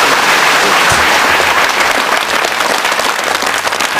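An audience at a large religious festival gathering applauds, producing loud, dense, continuous clapping from a crowd throughout.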